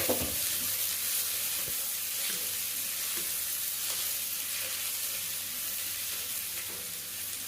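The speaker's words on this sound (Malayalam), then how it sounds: "എന്നിട്ട് ഇതാ ഈ 2 സവാള അത് ഇതിലിടാം." Two onions fry in hot oil for a fish and potato curry, giving a continuous dense sizzle with faint stirring scrapes throughout.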